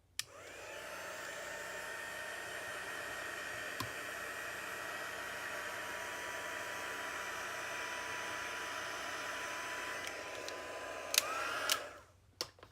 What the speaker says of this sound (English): use your heat gun just to kind of set the ink, and I just put it on the first setting